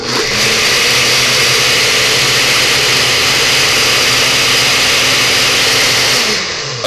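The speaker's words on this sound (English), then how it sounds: "Put the top on your blender." A kitchen blender whirs loudly and steadily as it purees a tequila marinade for puerco pibil, a dense continuous motor roar running nearly the whole length before easing off at the very end.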